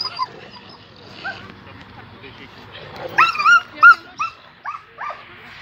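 A dog at a dog park in Ankara's Batıkent yelps in several sharp, high bursts near the microphone, following quieter background talk from people in the park.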